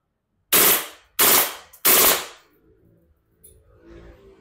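A Double Bell 774C airsoft Glock 18C pistol fires on full auto in three sharp, loud, rapid bursts close to the microphone, each cut off abruptly, followed by quiet handling noise.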